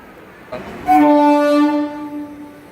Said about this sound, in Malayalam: നമ്മൾ വന്ന ട്രെയിൻ ഇതാ പോവുകയാണ്